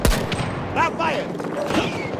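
Gunfire in the video game Battlefield 2042 on the Stranded map, a loud close burst opening the moment, followed by game voice lines and effects layered over continued combat noise.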